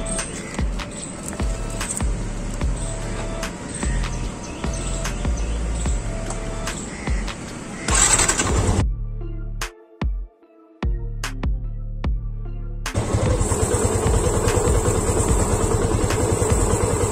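A motorcycle engine runs on its stand during chain cleaning and lubing, a steady close idle with a throaty low drone. It cuts out briefly midway, then restarts and runs louder and rougher. No one speaks.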